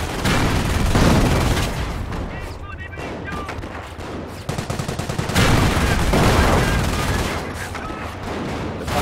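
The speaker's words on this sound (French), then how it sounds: "Le Panzer a une cadence de tir assez faible." Panzer tank firing in a war video game, with loud repeated booming shots and bursts of gunfire over a dense, continuous battle din.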